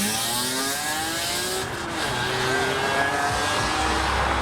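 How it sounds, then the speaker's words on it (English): A BMW E46 cruising past while leaving a car show, engine note rising and falling as it moves by fairly close, with a brief dip in level midway before another car's revving swells behind it. "E46 is cruising by"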